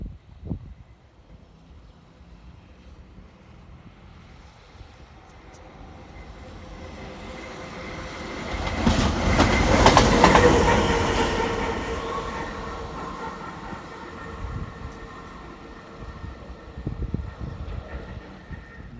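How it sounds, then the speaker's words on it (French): A locomotive-hauled train passes on the Paris-Orléans-Tours railway line, swelling from a distant rumble to a loud roar of wheels and rail clatter near the middle before fading, with light clicks of wheels on joints afterward. "C'est juste une locomotive lambda"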